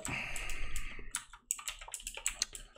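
Rapid typing on a computer keyboard, close and fairly loud, with a dense burst of clacking keys followed by separate, irregular keystrokes and clicks.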